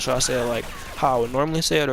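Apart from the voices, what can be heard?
No distinct noise like a dog, phone or traffic.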